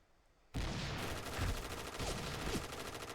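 Gunfire in the shooter game Point Blank, a 1v1 match on the Hangar map, starts abruptly and keeps up as a dense, continuous stream of rapid shots for about three seconds, close and fairly loud.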